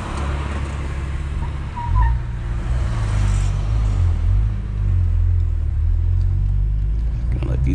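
A Cadillac CT4-V Blackwing with a 472-horsepower engine, driven gently on a busy road, gives a deep, subdued rumble with one brief rev swell early on, then settles into a steady low drone.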